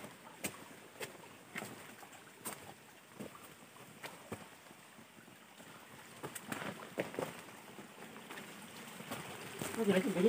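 A mountain stream flows steadily through a forest gully where trapping is done over several days, a continuous watery rush with scattered knocks and splashes that grows slightly louder near the end.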